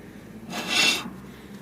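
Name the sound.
worn brake disc grinding as Honda Civic wheel turns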